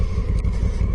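A Honda Africa Twin motorcycle rolls along in first gear, giving a steady low, rumbling engine drone with a brief scraping rustle partway through, heard close and without talk.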